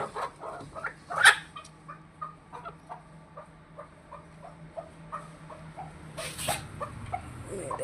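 Hens cluck in a poultry house at feeding time, with repeated short clucks and soft calls scattered throughout at close range, and a sharper squawk near the start and another loud burst toward the end.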